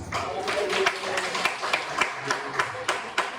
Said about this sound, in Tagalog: O pumalakpak ng malakas.